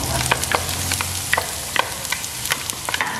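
Onions hit hot oil in a pan, crackling in a busy sizzle punctuated by utensil clicks and scrapes, close and moderately loud.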